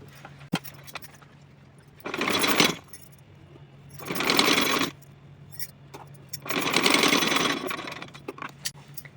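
Sewing machine stitching the side edge of a small cotton dress in three separate bursts, each lasting about a second or two, with quiet pauses between the runs.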